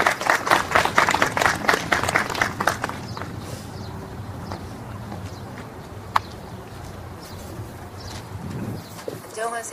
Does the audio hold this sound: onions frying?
no